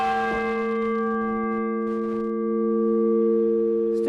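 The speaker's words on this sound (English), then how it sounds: "Still got a pretty ring too." Large clock tower bell ringing close and loud, a steady sustained chime with long overlapping harmonic hum that lingers throughout, with a fresh strike near the end.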